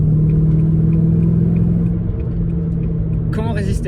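A steady, deep rumble comes from the 326 hp V8 engine of a Nogaro blue 1996 Audi S6 Plus Avant, loud and close, with a brief voice near the end.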